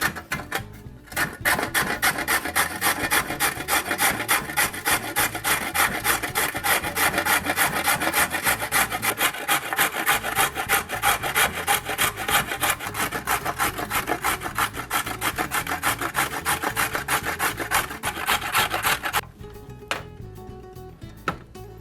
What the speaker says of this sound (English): Got some carrots here and just gonna shred them up. I'm just using a regular box grater here.